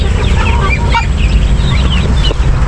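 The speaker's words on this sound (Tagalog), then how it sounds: "yan yung itik" Ducks in a backyard farm pen quacking and honking loudly and continuously, several birds calling over one another close by with steady low background noise.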